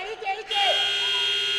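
A halftime buzzer sounds in a college men's basketball game in a gym, a loud sustained electronic tone that starts partway in and holds steady to the end, with crowd noise and an announcer's voice just before it.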